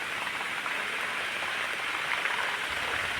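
Heavy rain pours down steadily outside a home after a spell of sunshine, a dense, even hiss of falling water with no talk and no breaks.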